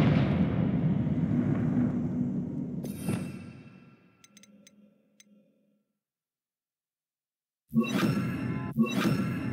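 A Confringo blasting spell goes off in Hogwarts Legacy with a loud, broad burst that rolls away over several seconds, followed by a few faint clicks, a stretch of near silence, and then two more sharp bursts at the end.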